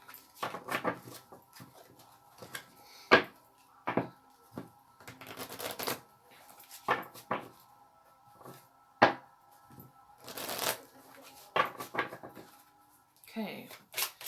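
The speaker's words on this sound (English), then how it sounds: "Give them a quick shuffle." Intermittent bursts of cards being shuffled, short crisp riffles separated by pauses, fairly close and moderately loud.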